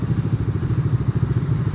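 A motorcycle engine idles at the Jamuna Bridge toll plaza, a steady close, loud rumbling putter with an even rapid pulse throughout and no talk over it.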